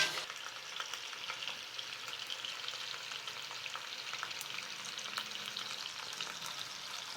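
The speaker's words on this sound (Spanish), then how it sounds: "le vamos a dar una movidita para que no se nos vaya a pegar" Lamb ribs fry in a Dutch oven with a steady, quiet sizzle and crackle, while faint stirring sounds come through under the hiss.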